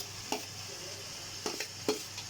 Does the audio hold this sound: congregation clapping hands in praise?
no